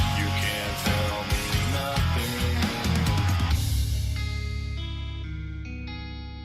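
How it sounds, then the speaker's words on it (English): Music with a heavy echoing reverb, sustained tones ringing out and fading into a long tail once the playing thins. "Ooh, nice subtle reverb back there."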